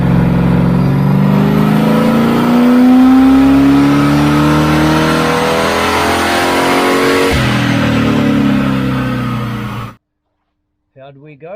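Holden stroker engine fitted with a bigger exhaust revving hard on a dyno, a loud sustained roar climbing steadily in pitch for about ten seconds before cutting off, followed by a brief voice.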